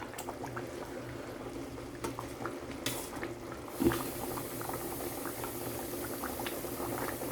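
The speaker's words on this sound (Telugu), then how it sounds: "ఇలా ఉడికింది మంచిగా. ఆయిల్ పైకి రావాలి." Curry simmers in a pot, a continuous close bubbling and gurgling with scattered pops, a louder splutter about midway, then steady boiling to the end, no voices.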